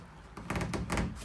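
A solid full-length bathroom door in a 2020 Grand Design Transcend Xplor 260RB travel trailer swings shut, giving a few close, hollow knocks and a soft thunk in quick succession, with no voices.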